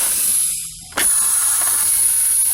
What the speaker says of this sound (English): Then we're going to release our parking brakes.